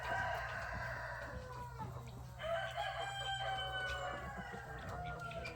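A rooster crows in long, drawn-out calls above a steady background of clucking chickens in a breeding pen, and a second crow follows midway.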